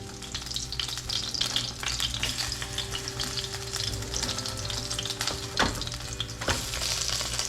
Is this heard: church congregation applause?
no